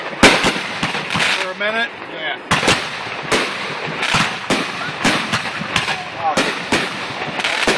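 Backyard family fireworks bang and crackle outdoors in rapid, irregular bursts, loud and sharp with whistling trails between some blasts, while people talk briefly nearby.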